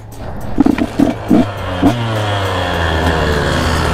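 A KTM SX 125 two-stroke dirt bike engine with stock exhaust revs in several sharp bursts, then settles into a steady, buzzing idle close by.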